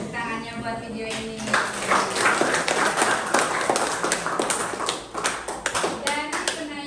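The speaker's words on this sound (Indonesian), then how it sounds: "Tepuk tangannya buat video ini." A classroom group claps hands together in a sustained burst of dense, overlapping claps that fill the room, with some voices and children's speech mixed in.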